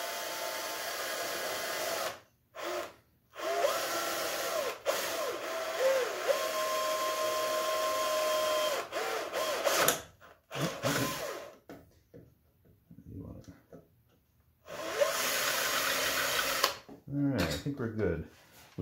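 A power drill bores a hole through a door for a full mortise lock, running in several sustained bursts with short pauses between, fairly loud and close, with brief talk in the gaps.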